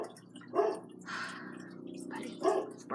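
A dog barks twice, moderately close, with a pause between the two barks and some quieter sounds in between.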